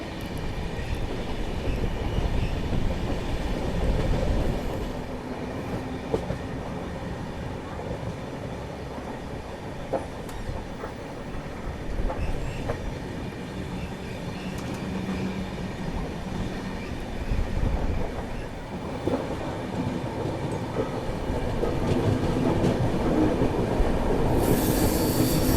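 Humsafar Express train running through a forested ghat section near Dongargarh, a continuous rumbling ride with wheel squeal and rhythmic rail clatter, heard up close from on board and steady throughout.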